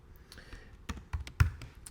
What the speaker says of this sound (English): So I'm going to start typing my image tag